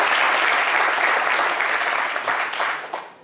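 Studio audience on a French TV talk show breaks into dense, loud applause that holds steady and then tapers off toward the end.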